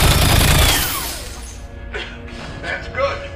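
Movie weapons-testing scene: a loud, sweeping blast from an alien weapon opens the clip and decays into a ringing, descending whine, followed by scattered crackles and clatter.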